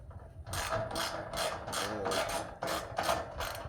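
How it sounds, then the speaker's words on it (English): Muffler bolts being tightened on a generator make a rhythmic series of close, rasping ratchet-like clicks in regular bursts, with no talking. "So I tighten the rest of these bolts up."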